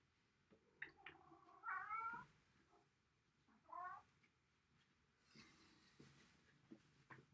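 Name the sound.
cat meowing at the door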